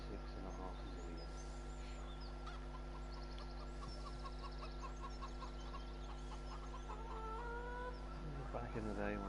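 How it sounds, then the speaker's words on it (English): Chickens cluck and chirp in a farm simulator video game, with small scattered calls over a steady low hum, one louder call near the end, and no talking. "Hey, chicken chicks. Chickens."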